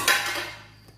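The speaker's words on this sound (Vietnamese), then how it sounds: "lấy một cái nồi mới" A cooking pot is picked up and set down in a kitchen while making fish soup, one sharp metallic clank that rings briefly and fades out, close and alone.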